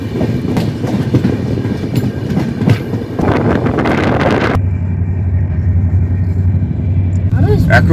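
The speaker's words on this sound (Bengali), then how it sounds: "দীনদয়াল উপাধ্যায় জংশন থেকে সঠিক সময়ে ট্রেনটি ছেড়ে দিল।" The Howrah–Mumbai Mail pulls out of Deen Dayal Upadhyaya Junction, a loud, close rumble of rolling coaches with rhythmic clatter and a steady low drone, heard from inside a two-tier AC coach.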